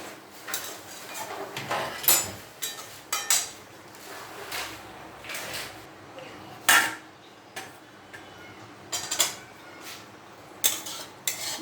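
Scattered clanks and scrapes of metal on a stove as a pan of okra fried in oil is moved and taken off the heat, faint and uneven, with short knocks spread across the clip.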